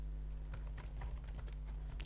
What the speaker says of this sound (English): So if you start typing here now